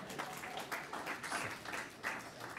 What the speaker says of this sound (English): You can applaud for them too.